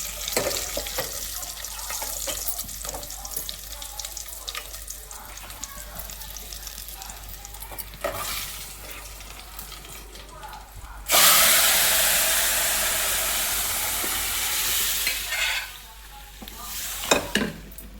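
Steady crackling and stirring in a hot pan of tempering, then a loud rush of sizzling as mango and tomato dal is poured in, fading back to bubbling.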